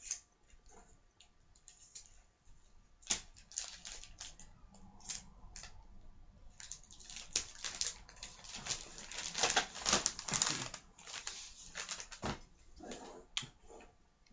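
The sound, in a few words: scissors cutting Christmas wrapping paper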